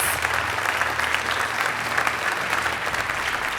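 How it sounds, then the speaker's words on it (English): Steady, loud applause from a conference audience in Porto, welcoming a panel on climate. Dense clapping holds evenly from start to finish with a faint crowd murmur underneath. "A round of applause for our panelists."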